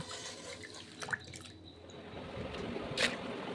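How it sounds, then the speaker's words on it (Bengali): Sliced potatoes are washed in water, producing faint, soft splashes, drips and squishes with a couple of brief louder sloshes, close by and without talk. "আমি আলুগুলো কেটে নিয়েছি আর এখন ভালো করে জলের মধ্যে দিয়ে ধুয়ে নেব"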